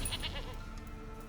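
A goat bleats in The Witcher 3 video game, a wavering, nasal call at moderate level within a dense game soundscape of ambient noise, no talk.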